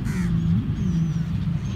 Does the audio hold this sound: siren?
no